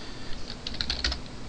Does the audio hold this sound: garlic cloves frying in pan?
no